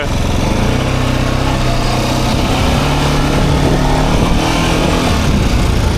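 A Taiwanese Access 860 Super Charger quad bike engine drones loudly and steadily up close, with a buzzing, high-revving tone that rises and falls slightly as the throttle changes.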